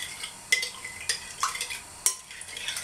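A spoon scrapes and clinks against the side of a bowl a few times as sugar is stirred into a sponge dough starter for Easter cake, close by, with light background hiss.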